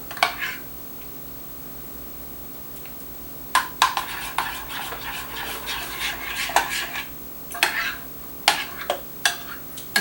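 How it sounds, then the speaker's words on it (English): A metal spoon stirs honey into homemade Instant Pot yogurt in a bowl, making close scraping clinks against the dish. The clinks come in irregular bursts, with a quiet stretch early on and denser clatter from about four seconds. No one speaks. "And a regular old spoon, and stir that in."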